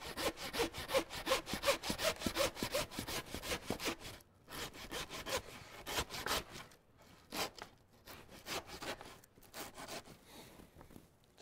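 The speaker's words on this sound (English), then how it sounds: "we'll take our handsaw" A handsaw rasps through pig ribs during butchering, fast rhythmic back-and-forth strokes close up, pausing briefly before slower, more scattered strokes resume.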